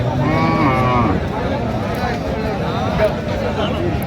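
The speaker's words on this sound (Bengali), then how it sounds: "ষাঁড় আমরা দেখছিলাম এখানে।" Sahiwal breed bulls at a farm cattle market in Dinajpur low and bellow amid a crowd's busy chatter, with a moo rising near the start over steady market hubbub.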